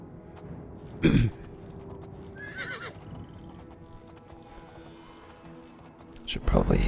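A horse in the video game The Elder Scrolls IV: Oblivion neighs in short bursts, with a soft clip-clop of hooves between them, fairly close and clear.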